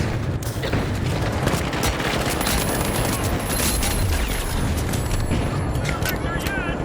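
Dense, continuous video-game gunfire from a newly launched season, with rapid bursts and heavy booming blasts layered under voices talking throughout.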